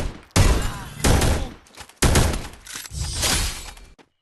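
Rapid bursts of gunfire ring out in a shooting video game, several loud volleys with brief pauses between them, ending in a final headshot, with no talking.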